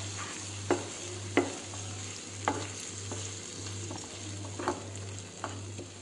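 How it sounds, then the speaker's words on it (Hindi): Tomato and green chili puree fries in a pan for a paneer dish, making a low continuous sizzle with a few sharp spoon scrapes and taps, over a steady electrical hum and with no talking. "टमाटर प्यूरी को थोड़ी देर के लिए भूनेंगे।"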